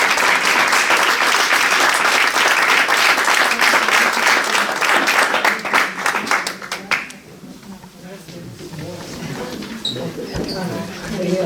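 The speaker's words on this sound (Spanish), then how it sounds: "le despedimos con un aplauso" An audience gives a sustained round of applause to send off a speaker at a talk, loud dense clapping for about seven seconds before it thins and fades into quieter room sound and faint voices.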